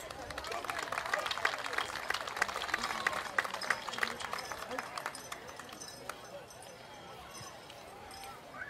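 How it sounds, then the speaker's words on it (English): An audience at a traditional night princess coronation event claps in a dense, sustained round of applause that peaks early and gradually thins out, with crowd noise and voices mixed in. "give them a round of applause"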